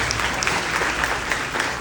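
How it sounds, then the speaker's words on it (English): Students at a school pep rally clapping for themselves, a brief burst of dense, even applause from a large crowd in a reverberant hall. "I want you to give yourself a round of applause right now."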